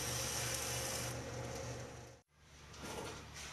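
A grinder shapes a one-piece razor at slow speed, giving a dense steady abrasive whir with a hissing edge. It breaks off briefly and then resumes, close and fairly quiet.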